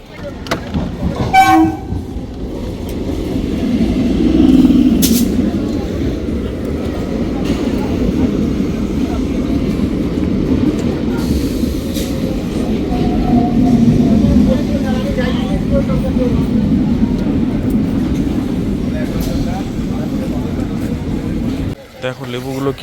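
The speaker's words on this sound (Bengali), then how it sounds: "ট্রেন আসছে মনে হয়" A train runs through a railway station with a steady heavy rumble and clatter and a horn blast near the start, while people talk nearby over the noise.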